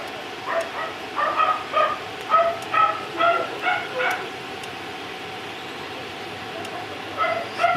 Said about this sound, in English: dog going mad in the background